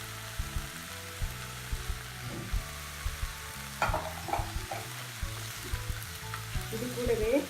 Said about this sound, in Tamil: இந்த ஸ்டேஜில் நம்ம தக்காளியை சேர்க்குறோம்.